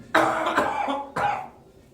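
Two deliberate, forceful coughs from a person doing a breathing exercise, a double cough then a second after a short pause, close and clear with no talk.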